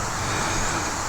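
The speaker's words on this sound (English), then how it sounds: "Sorry for the background noise of the trucks." Trucks and other road traffic pass near a small cemetery, a steady broadband roadway rumble and hiss that stays loud and unbroken throughout.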